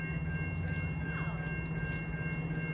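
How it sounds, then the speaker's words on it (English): A General Motors diesel locomotive approaches with its train, a continuous loud low engine rumble and drone with a faint horn-like tone, heard at some distance. "Sounds like a General Motors diesel approaching his train 11:25."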